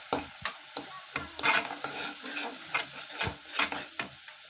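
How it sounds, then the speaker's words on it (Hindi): Egg masala sautéed and stirred in a pan, with a steady oily sizzle broken by repeated scraping strokes of a spoon at an uneven rhythm, close and moderately loud with no voices. "हम इसे अच्छी भूनेंगे।"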